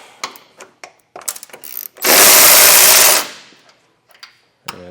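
A socket wrench removes the 15mm nuts holding the bumper beam on a 2025 Volvo XC90. Short bursts of clicking ratchet strokes lead into one loud, sustained whir lasting about a second, followed by scattered clicks.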